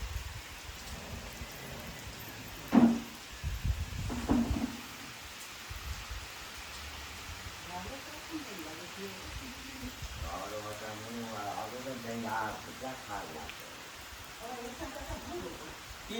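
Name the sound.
rain falling in the morning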